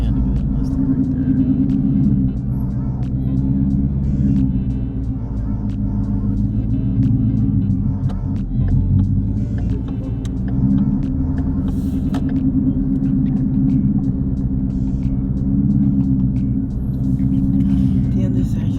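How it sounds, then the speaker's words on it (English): A Ford Mustang 5.0 at a car meet, its engine holding a deep, steady rumble close by for the whole stretch while someone talks over it. "Damn, look at that Mustang right there."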